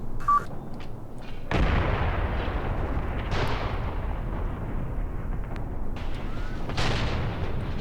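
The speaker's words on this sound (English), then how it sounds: "You can see the coaxial machine gun fire." A tank's coaxial machine gun fires in Graviteam Tactics: Mius Front, with loud rattling bursts and heavy booms rolling through a sustained battlefield din.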